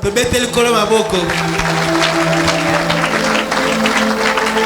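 Congregation clapping steadily and continuously during a church worship service, a dense sustained wash of applause with voices and music mixed in throughout.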